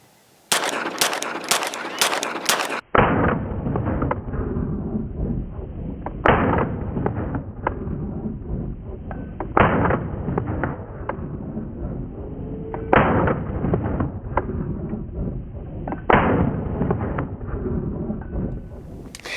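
A Tisas 2011 pistol with a ported Lucky 7 barrel fires a quick string of sharp, loud cracks at the outset. Heavier booming reports follow at intervals of a few seconds over a steady, dense rumble of outdoor range noise.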